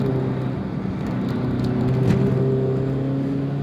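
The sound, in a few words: Toyota AE86 4A-GE 16V engine while driving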